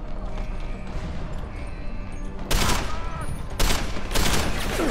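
Gunfire in the video game Deus Ex: Human Revolution, loud bursts of shots breaking out over a rumbling in-game background.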